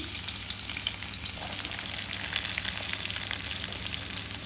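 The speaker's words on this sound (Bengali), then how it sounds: "ভাজি বসিয়ে দিব, রসুন" Garlic fries in hot oil in a pan, producing a dense, steady, fairly loud hiss and crackle that carries on without pause and with no talk over it.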